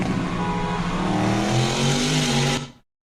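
Engine roar from a car racing flat out neck and neck with a 700-horsepower McLaren 720, loud and steady with rising harmonic tones, then cutting off abruptly near the end.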